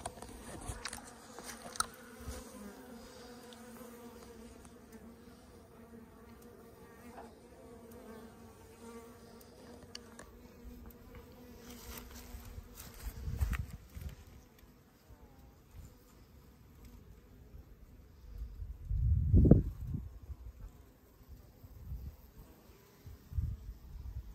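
Honey bees buzzing around a Warré beehive in a bee yard during overwintering work, a continuous low drone from many insects, with occasional close fly-by swells and rustling.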